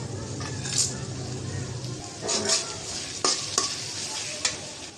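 Cardamom, cinnamon and bay leaves sizzling in hot oil in a pan while being stirred, with soft frying crackle, several scraping strokes of a utensil and a few clinks, and a voice speaking over it.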